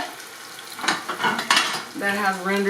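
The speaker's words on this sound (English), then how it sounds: "I'm going to add the last bit of bacon oil that has rendered" Rendered bacon oil poured into a hot pan for homemade chili mac, a steady sizzle and crackle with some stirring and clinks of cookware, fairly close and alone without talk.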